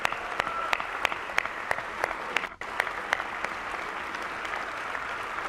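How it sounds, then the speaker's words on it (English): Sustained applause from a dinner audience honoring Al Smith at a 2016 charity dinner in New York, dense and steady with sharp individual claps standing out, a brief dip midway before the clapping resumes. "great round of applause."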